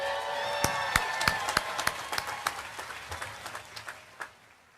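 Graduates of the 2017 class receive applause at a college commencement ceremony in a large hall. A few sharp, distinct claps stand out over a thin, spread-out crowd clapping that slowly fades.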